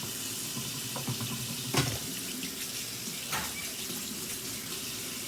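Cool tap water runs steadily from a kitchen sink faucet while rice water is being prepared, a continuous hissy stream with a couple of brief splashy surges, fairly close and with no talking.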